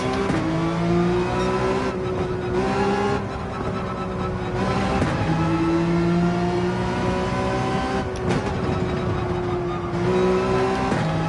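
Race car engine in Gran Turismo 7 driving through the Corkscrew, loud and steady with harmonic whine rising and dropping through repeated gear shifts and braking, alone without talk.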